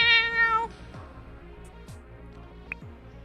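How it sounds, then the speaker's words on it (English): A cat cries out in a video game, a harmonic meow-like wail at the start, followed by quieter scattered clicks and soft tones. "You can hear the screams of a cat."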